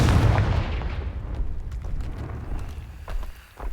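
A Confringo blasting spell goes off in Hogwarts Legacy, opening with a loud, deep boom that rolls into a rumbling, crackling tail and fades over several seconds.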